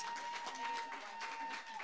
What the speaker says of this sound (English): give God another hand clap of praise